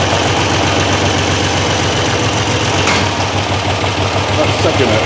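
Triumph Trident T160 motorcycle engine idling steadily and loudly nearby, a continuous throbbing rumble with a faint mechanical knock, no talk over it.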